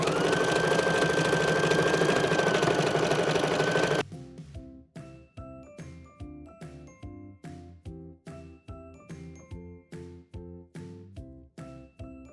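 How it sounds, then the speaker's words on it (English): A Designer Epic embroidery machine stitching a pink and gold crab design onto a garment yoke, its rapid regular needle clatter loud and steady after a few seconds of a different hum. "So let's hit start."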